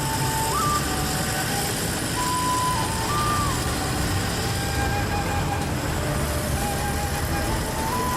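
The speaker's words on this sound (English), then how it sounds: "the truck pulling up" A heavy truck pulls up and rumbles close by amid road noise, with high electronic beeps chirping intermittently over the steady engine drone.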